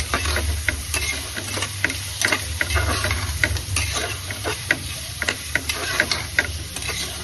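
Onions sauté in a pan while being stirred, a steady close sizzle broken by repeated light clicks and scrapes of a spoon against the pan.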